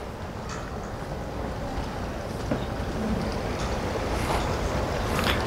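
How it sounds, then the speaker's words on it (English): Boat passing near a marina boat ramp: a low motor rumble that slowly swells with water and wind noise, plus faint scattered splashes and clicks, and no voices. "I hear a boat there."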